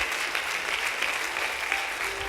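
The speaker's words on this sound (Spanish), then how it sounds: "Un caluroso aplauso y bienvenida le damos" A church congregation claps in warm welcome at the start of a service, a brief, steady burst of many hands applauding together at moderate loudness.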